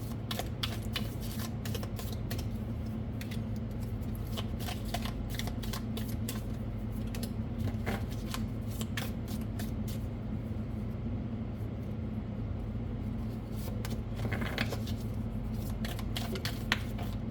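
Tea leaf oracle cards are shuffled by hand in a steady run of soft, rapid riffling clicks over a low background hum, faint and close, with no talking.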